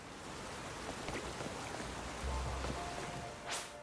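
Rain falling steadily in the video game Pokémon Legends Z-A, a continuous even hiss of drops with a brief rising swish near the end, no voices.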